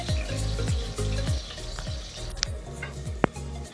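Onions frying slowly in a pan toward golden brown, a close, continuous sizzle with rhythmic stirring sweeps and a couple of sharp clicks, no one talking.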